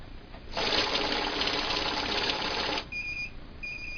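A Paras 7200 banknote counting machine with magnetic fake note detection whirs loudly as a stack of notes riffles through for about two seconds, then stops, followed by short repeated electronic beeps.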